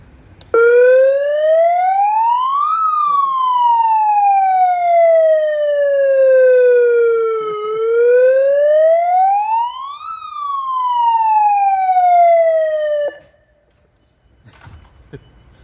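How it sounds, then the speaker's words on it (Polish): A loud siren wails alone at a street protest outside a county office in Kraśnik, Poland, its pitch rising and falling in slow sweeps for several cycles before cutting off abruptly. "Włączając syrenę."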